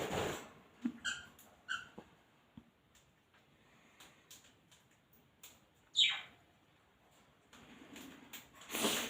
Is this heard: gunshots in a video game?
no